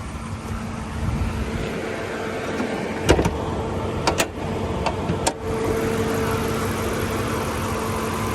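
A 5.7-litre Hemi V8 idles steadily under an open hood, a constant low engine hum running throughout, broken by a few sharp clicks and knocks near the middle; no one speaks.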